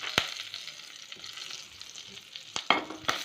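Curry leaves fry in a pan with chilli powder for podi idli, a soft sizzle broken by a few sharp scraping stirs of a spoon near the end, with no talking.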